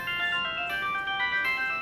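A telephone ringtone rings steadily and loudly in a Tamil film scene, its bright electronic tones repeating in a continuous pattern with no voices over it.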